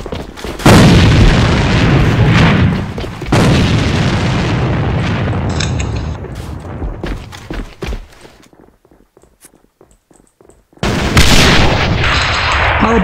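A grenade blast in a tactical shooter video game, with loud booming explosion bursts, clatter and gunfire-like cracks, a quieter stretch of scattered pops, then another loud burst near the end.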